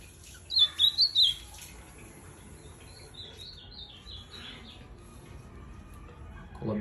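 A male pet bird gives a quick burst of four bright chirps near the start, then softer twittering calls follow, close and clear over a quiet room hum.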